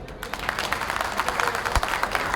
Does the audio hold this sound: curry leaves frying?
no